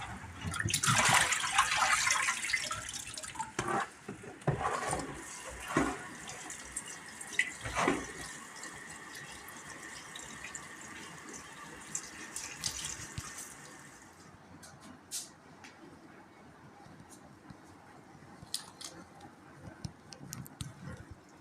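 Water runs from a kitchen tap while fresh herbs are washed, a loud splashing rush with clatter for several seconds, then quieter dripping and faint trickles.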